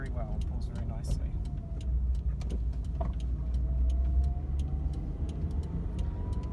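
A car with a rebuilt Toyota 2E engine drives along with a steady, low engine and road rumble that rises slightly as it pulls, while ticking and a person talking sit over the drone.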